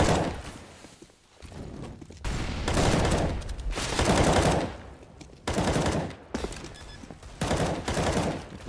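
Rapid bursts of gunfire in Counter-Strike on the Train map, loud rattling volleys separated by short lulls, with faint footsteps between the shots.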